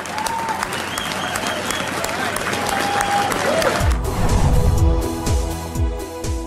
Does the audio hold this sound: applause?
yes